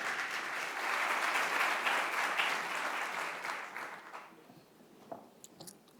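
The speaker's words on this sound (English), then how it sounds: "give our panelists a big round of applause" Seminar audience applause for panelists, a full crowd clapping steadily that thins and fades toward the end, leaving a few scattered claps and small noises.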